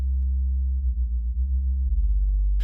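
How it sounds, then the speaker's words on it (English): A steady, pure low sine tone hums continuously at moderate level, with a slight wavering midway and a brief noisy edge at the very end. "So you hear it's just a sine wave."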